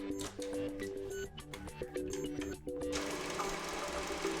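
Epson XP-6100 inkjet printer carriage whirring and clicking as it moves the ink cartridges, a rapid buzzing, stepped mechanical rattle that speeds into a steady higher whir near the end, fairly quiet and close.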